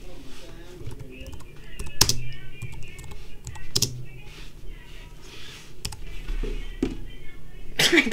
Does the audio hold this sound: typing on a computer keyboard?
yes